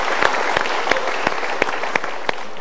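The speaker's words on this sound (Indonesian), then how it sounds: "Super sekali, kita berikan tepuk tangan." A studio audience at a motivational talk show claps steadily, with a few sharper individual claps standing out in a fairly close, continuous round of applause.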